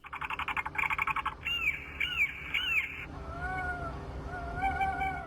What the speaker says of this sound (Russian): На птицефабриках в Башкортостане включили громкоговорители со звуками ястребов и коршунов.